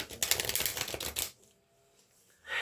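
A deck of oracle cards is shuffled close by in a quick riffle of papery flutters lasting about a second, then it falls nearly silent.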